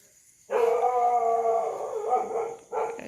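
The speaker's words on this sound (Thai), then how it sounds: "หมากะเห่าโหดซะเกิน รู้สึกว่าเห่าหอนสะเกินมาก" Dogs bark and howl together at close range, a loud sustained chorus of wailing tones that dips briefly before another burst of howling at the end.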